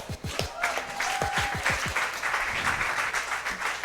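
Audience applause at a Haiti tech summit panel, a dense steady wash of many hands clapping throughout, fairly close and loud, with a few distinct sharp claps early on and a brief whistle-like tone.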